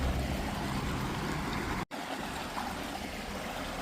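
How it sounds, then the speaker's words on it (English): A nearby creek rushes steadily outdoors, a continuous broadband wash of water that cuts out for an instant midway before resuming at the same level. "I do hope I'm actually audible over the sound of that creek"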